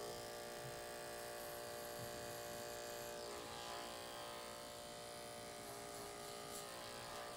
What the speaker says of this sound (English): We're going to take the clipper at a 45 degree angle and start to taper around the outline of the haircut.